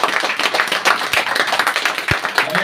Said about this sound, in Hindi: सभी ताली बजा सकते हैं प्रभु के वचन की जोर से।